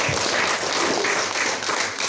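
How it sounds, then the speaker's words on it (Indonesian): A church congregation applauds during a Sunday worship service, dense sustained clapping from many hands filling the room at fairly high volume, with no clear speech over it. "Tepuk tangan buat Tuhan kita Yesus Kristus"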